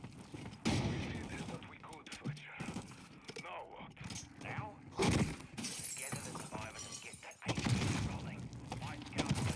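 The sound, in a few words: window glass shattering in Call of Duty MW3 Zombies video game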